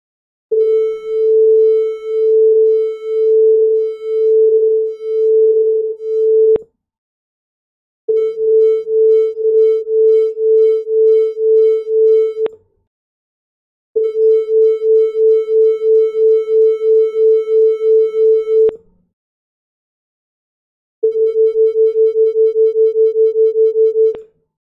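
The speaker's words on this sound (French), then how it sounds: "Qu'est-ce qui arrive si j'en ai une qui va à 441, 442, qui ont des fréquences légèrement différentes? C'est là que le battement va se produire." Pure sine tones around 440 Hz played in four separate bursts, each pulsing with a regular beating wobble that grows faster from burst to burst as two slightly detuned tones interfere, loud and alone.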